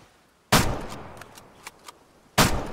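Two loud, sharp rifle shots in the Way of the Hunter hunting game, each a broadband crack followed by a decaying rolling echo, spaced about two seconds apart with faint distant reports in between.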